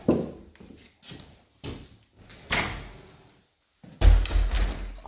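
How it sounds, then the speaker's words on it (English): Kitchen doors are pushed shut during a DIY renovation, giving a series of close knocks and rattling thuds that ends in one heavy, booming slam. "Close these doors a wee bit now in case wildlife comes in."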